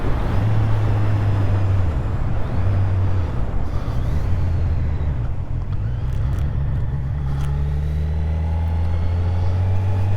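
A truck rumbles past on an open road, heard from a motorcyclist wearing a Scorpion EXO-520 Air full-face helmet, its low engine drone rising and shifting under constant wind roar, with no talk.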